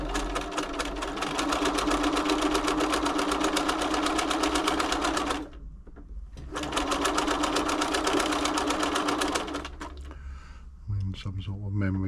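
A Bernina B325 sewing machine on the service bench runs in two long, loud stretches of fast, steady mechanical chatter, with a short pause between them. It stops near the end, leaving a brief low hum and faint voice.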